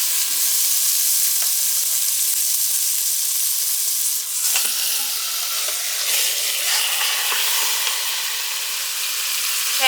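Food sears in a hot pan with a steady, loud, close sizzle and hiss that holds throughout, broken by faint scrapes of stirring.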